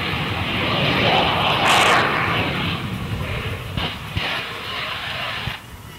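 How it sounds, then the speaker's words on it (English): A Canadian CF-18 fighter jet performing at an air show in Canada produces a loud, broad roar that builds and rushes past, then settles into a rumbling drone with a few sharp crackles, with no talking. "This is an air show in Canada flown by a Canadian CF-18"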